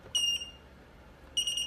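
Battery tester emitting two short, bright electronic beeps separated by a pause of about a second, clear and close against a quiet background.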